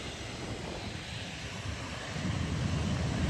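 A Boeing 737-800 and an ATR 72 at Bristol Airport, a broad, steady roar of jet and turboprop engine noise heard from outdoors, swelling louder and deeper toward the end.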